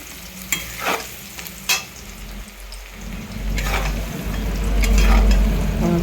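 Chopped onions fry in a pan with a steady sizzle that swells louder over time, broken early on by a few sharp clinks and scrapes of stirring against the pan.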